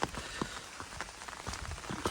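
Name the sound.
rain falling while hiking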